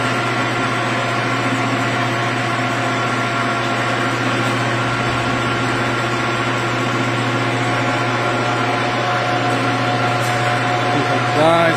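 A heavy mechanical lathe runs with a steady, loud motor hum and gear whine close by, holding an even tone throughout.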